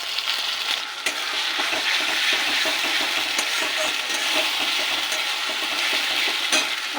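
A paste of ginger, tomato, green chilli, onion and garlic sizzles as it fries with onions in a pan, a steady, close frying hiss with occasional stirring scrapes throughout.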